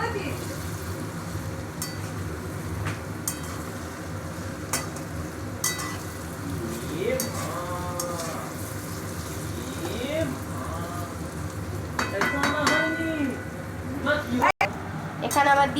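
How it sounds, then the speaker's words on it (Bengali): Chow mein fries in a pan and is stirred, a continuous sizzle with scraping and clinking of the utensil, while a person talks over it throughout. "দেখো কি সুন্দর ভাজা হচ্ছে পুরোটা"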